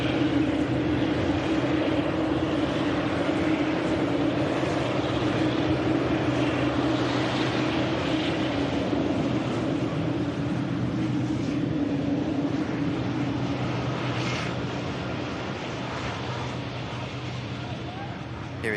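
An airliner taxis past at Manchester Airport, its steady engine roar and whine filling the scene at close range and fading slightly toward the end, with a person talking over it.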